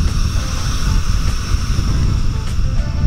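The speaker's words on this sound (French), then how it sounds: "il y a un trou qui crache de l'air. En gros, si vous voulez, l'océan nous fait les vagues" Air and spray forced out of a rocky blowhole by ocean waves on the coast of Mauritius, a steady loud rushing roar of surf and wind with no voices.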